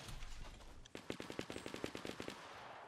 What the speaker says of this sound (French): Ça tire où là?